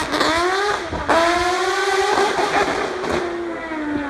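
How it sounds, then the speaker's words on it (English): A Super GT race car engine in Gran Turismo 7, loud and close, screaming up through the gears with rising whines, sharp drops at each upshift and a long sustained high-rev pull. "And also that beautiful engine note."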